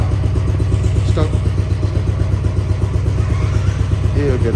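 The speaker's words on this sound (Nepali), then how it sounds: "बाइक चाहिँ रेडी हुँदैछ इन्जिन पुरै सेट भएर" A motorcycle engine, freshly rebuilt and fully set up, runs steadily close by with a low, even throb, and brief voices break in now and then.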